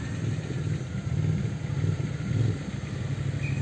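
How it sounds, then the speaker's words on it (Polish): Motorcycle engines rumble low and steady in street traffic, heard through an open car window, with a faint surging roar and no talking. "Posłuchajmy trochę odgłosów, motory."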